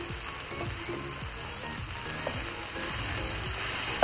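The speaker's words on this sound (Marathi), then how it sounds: "आता ह्यामध्ये आपण जी फ्राय केलेली भेंडी होती तेलामध्ये ती आता ह्याच्यामध्ये टाकणार आहे।" Fried okra goes into a hot pan for dahi bhindi, bringing a continuous close sizzle and crackle with short clicking scrapes scattered through it, and no one speaking.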